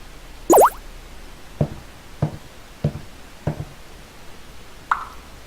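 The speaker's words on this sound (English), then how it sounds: "So first it played beep, footsteps, and drip," Short sound effects play one after another in a quiet space: a bright watery drip, several evenly spaced soft footsteps, and a brief electronic beep, each isolated and clean.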